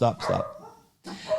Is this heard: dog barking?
yes